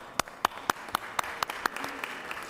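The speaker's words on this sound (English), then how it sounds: "Give them a round of applause." Applause for visiting students in the Georgia State Senate chamber, heard as a sparse run of distinct, fairly sharp claps at a steady pace, moderately close and thinning out toward the end.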